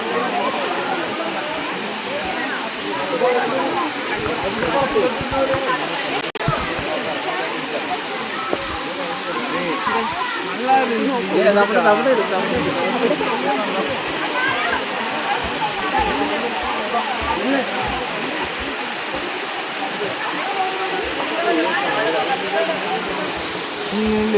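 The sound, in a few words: small waterfall, water falling from above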